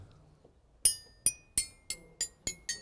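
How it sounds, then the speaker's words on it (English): Seven xylophone bars are struck one after another at an even pace, each a bright, ringing metallic tap that decays quickly, close and clear with no talk over them. "A xylophone. Xylophones depend on the bar length."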